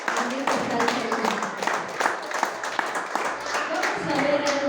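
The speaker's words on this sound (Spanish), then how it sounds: "¿Cuánto le dan fuerte aplauso al Señor por eso?" A church congregation claps in a loose patter of applause, scattered hand claps running under a speaking voice throughout.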